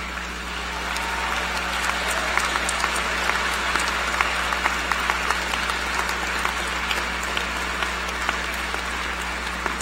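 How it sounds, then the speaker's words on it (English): Standing graduates applaud at a spring university commencement ceremony in a large hall, a broad, steady roar of clapping from a big crowd with scattered sharper claps, continuing for about ten seconds over a low steady hum. "will the graduates please rise and give a round of applause in appreciation of those that supported you through the educational process"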